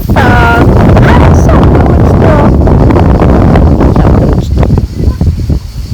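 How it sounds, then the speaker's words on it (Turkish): Loud, gusting sea wind buffets the microphone with a heavy roar, a voice speaking briefly over it before the blustering eases slightly near the end. "Rüzgar."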